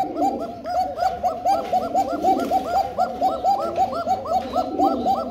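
Two pigeons on a breeding farm coo nonstop, a close, loud run of rapid, evenly spaced rolling coos that overlap in a continuous rhythm.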